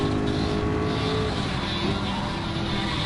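Buzzy, high-revving GR3 race car engine in Gran Turismo 7 at Watkins Glen, a chainsaw-like rasp that stays loud and steady with a faint pitch shift, mixed with some background voice.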